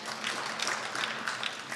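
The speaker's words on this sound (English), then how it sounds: "Can we get a round of applause for Dave for showing up for the workshop this morning?" A room of contractors at a commercial marketing conference workshop gives a brief, modest round of applause, a soft even patter of scattered hands clapping with no speech over it.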